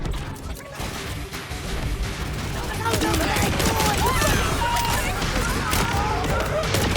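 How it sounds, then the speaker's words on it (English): A singularity explosion in the video game Borderlands 4 sets off a dense, sustained roar of crashing and rapid gunfire-like bursts, loud and close, swelling after a few seconds and continuing to the end. "Damn, singularity explosion?"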